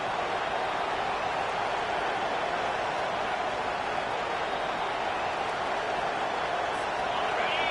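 Stadium crowd noise from a College Football 25 game, a steady, dense roar of cheering fans that holds at an even level throughout with no individual voices standing out.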